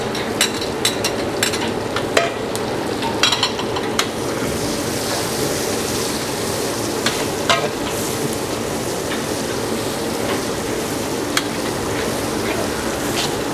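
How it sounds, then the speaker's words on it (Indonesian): Shallots frying in hot oil with a steady, even sizzle, broken now and then by sharp little crackles and pops, close up with no talking. "Langsung kita masukin bawang merahnya"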